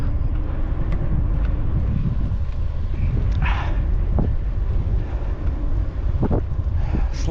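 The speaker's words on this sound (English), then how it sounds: "Slight wind coming up, I think from the south." Steady wind buffeting a rider's microphone on a single-speed bike ride along the Bow River in Calgary, a constant low rumble with a few faint clicks and rattles throughout.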